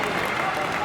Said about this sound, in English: And very good support by the crowd.